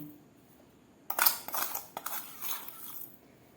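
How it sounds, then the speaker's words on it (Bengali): Sugar spooned into a cooling coconut and semolina mixture for homemade bakery-style biscuits, heard as a burst of close metallic spoon scrapes and clinks against a bowl lasting a couple of seconds, with no talking. "এবার আমি এর মধ্যে দিয়ে দিচ্ছি দু চামচ চিনি"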